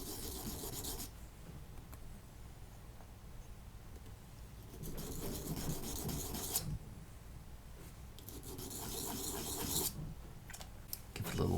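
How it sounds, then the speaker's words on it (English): Sandpaper rubbing back and forth on a wooden shamisen itomaki tuning peg, coming in about three broad raspy bursts separated by quieter pauses, close and moderately soft. "let's demonstrate with the sandpaper"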